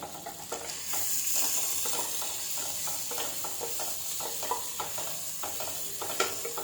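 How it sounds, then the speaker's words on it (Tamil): Sliced big onions and two large green chilies fry in a pan for mushroom biryani, a soft continuous sizzle broken by repeated scraping taps of a stirring spoon, close and fairly quiet with no talking. "பெரிய வெங்காயம் வதக்கும் போது 2 பெரிய சைஸு பச்சை மிளகாய் வந்து போட்டுக்கிறேன்."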